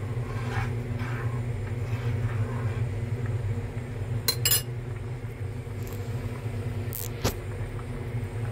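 Light clinks of a utensil stirring egg into a quick soup in a pot, a few sharp metallic taps standing out over a steady low rumble of background noise.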